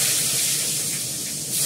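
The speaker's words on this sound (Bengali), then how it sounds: "কুমড়োগুলোকে হালকা করে একটু ভেজে নেব।" Pumpkin pieces frying in oil with kalo jeera, a loud, close, continuous hissing sizzle with no pauses.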